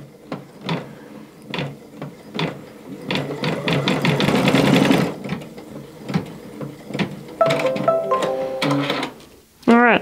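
A Baby Lock Altair sewing and embroidery machine stitching up close with a rapid mechanical whir and rhythmic needle clatter, rising into a dense burst midway, then a short electronic chime near the end.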